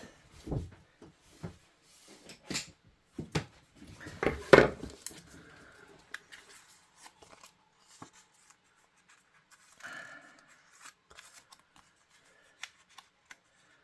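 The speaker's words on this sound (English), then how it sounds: "and then I'll get my scissors." Scissors cutting paper: crisp clicks and paper rustling at close range, a few bursts of snipping and handling noises early on, then quieter scattered taps.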